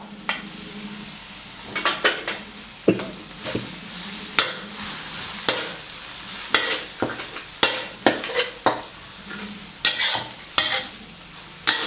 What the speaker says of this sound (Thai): แล้วเราก็จะเอาเนื้อหมูลงไปผัดนะครับ